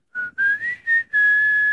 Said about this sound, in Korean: 휘파람을 불면서.